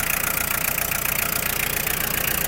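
A Yanmar FX-42 mini tractor's four-cylinder engine idles up close, a steady, even rumble with a fine rapid pulse and no voices.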